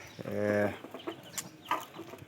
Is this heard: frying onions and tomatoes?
no